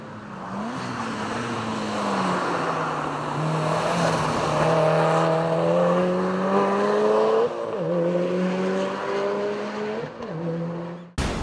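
A tuned Subaru WRX STI time-attack car on a Tsukuba circuit lap, its boosted engine howling loudly and close, climbing through revs with brief drops at gear shifts and off-throttle lifts.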